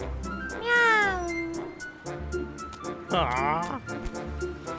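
A cartoon cat in a Tamil animated comedy meows twice, once early and once later, each a drawn-out, wavering call heard close, with a character talking around them.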